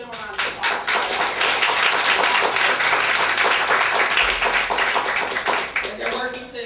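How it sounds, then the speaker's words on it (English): An audience applauds a filmmaker-series coordinator and her team at a panel discussion: steady, dense clapping fills the whole stretch, with a few voices and cheers mixed in. "Give them a round of applause."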